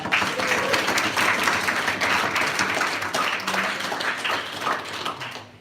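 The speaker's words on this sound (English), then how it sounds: "Give yourself a huge round of applause" Teams and attendees at the Tallinn Mobility Hack applaud after the 24-hour hackathon pitches, a loud, continuous wash of clapping that gradually thins toward the end.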